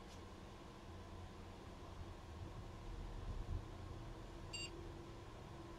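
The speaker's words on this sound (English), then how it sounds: "Oh, we had a beep." A single short electronic beep from a desktop computer starting up after its memory was reseated, heard once, faint and high, over a steady hum of fan and room noise.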